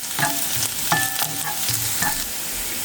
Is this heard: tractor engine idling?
no